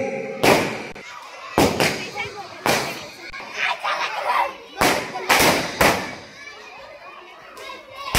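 Firecrackers burst in loud, sharp bangs, several in quick succession with pauses between, while children's voices chatter in the background.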